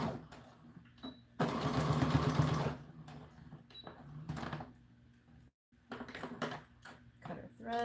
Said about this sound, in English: we're going to go forward and back to tie our seam off